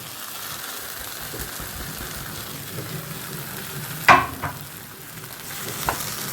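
Chicken pieces fry in a pan with a quiet, steady sizzle, punctuated by a sharp clink and a few utensil scrapes as they are moved around.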